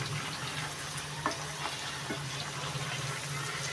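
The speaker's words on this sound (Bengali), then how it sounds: "এই যে লাস্ট দিয়েছি ফ্রাই করতে" Chicken pieces deep-frying in oil for chilli chicken, a soft, continuous bubbling sizzle with a low steady hum underneath and a few small clicks and pops, fairly quiet and without speech.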